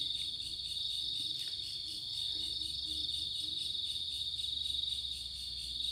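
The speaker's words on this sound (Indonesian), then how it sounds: "Adanya suara jangkrik bos" Crickets chirp at night on a small hill near a ravine, a steady high trilling pulse that continues unbroken, fairly faint with low background hum and no talk.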